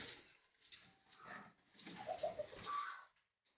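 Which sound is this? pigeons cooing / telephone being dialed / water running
pigeons cooing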